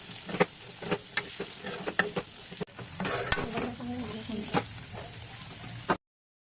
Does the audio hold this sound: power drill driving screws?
no